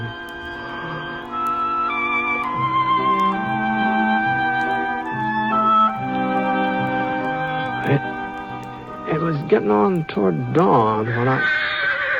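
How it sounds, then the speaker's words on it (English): A horse neighing in a corral before dawn: several loud, shrill, wavering whinnies near the end, heard while someone narrates over a musical bed. "one of the horses down the corral was sure upset about something"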